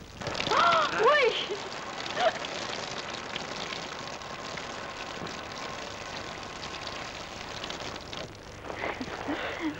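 Rain falls steadily in a 1947 ballet film scene, a soft, even hiss filling the whole span, with brief voices rising over it at the start and near the end.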